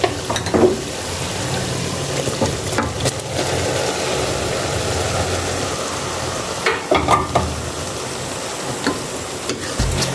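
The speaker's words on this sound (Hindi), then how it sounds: "अब मैं इसमें मसाले में कीमा डाल के अच्छी तरह इनको भूनूंगी" Minced meat fries in tomato masala in a pan for aloo matar keema, producing a continuous loud sizzle with spatula scrapes and a few sharper knocks, close up and with no speech.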